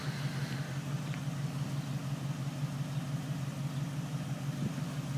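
A 1975 Ford Bronco idles steadily from the rear, a continuous low, even engine rumble with no variation in pace and no voices.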